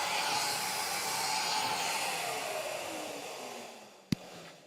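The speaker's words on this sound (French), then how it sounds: "l'aspirateur s'allume" A vacuum dust extractor runs beside a CNC milling machine cutting a solid-wood slide, giving a loud, steady airy whoosh with a slowly falling whine, then a sharp click near the end.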